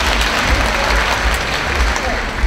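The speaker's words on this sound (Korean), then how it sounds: "열광해 주신 강사님께 다시 한번 큰 박수를 부탁드리겠습니다." An audience at a Megastudy lecture in Korea applauds the lecturer, a dense, loud, continuous burst of clapping from a full room throughout.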